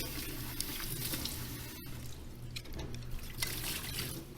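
Tap water runs steadily into a kitchen sink, a close, continuous trickle and splash with no talking.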